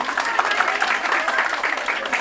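A crowd at a Tamil pattimandram debate event applauds, a dense, even wash of clapping that stays loud for the whole stretch, with no talk over it.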